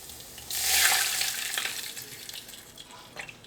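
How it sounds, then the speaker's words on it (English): About a cup of apple juice pours into a pork roast marinade of olive oil and minced garlic, making a bright, splashing trickle that swells quickly, then tapers into a softer, uneven flow. "Going to add about a cup of apple juice."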